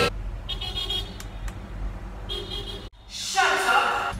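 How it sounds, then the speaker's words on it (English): Street traffic drifts in through an open window as a steady low rumble of passing cars. A couple of short car horn toots sound partway through, and a louder vehicle whooshes past near the end. "downstairs there's traffic, so you can hear some, like, you know, cars or anything"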